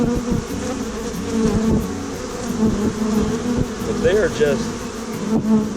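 Honeybees swarming into their hive make a loud, dense, continuous buzz close to the listener, with individual bees whizzing past; someone speaks briefly over it.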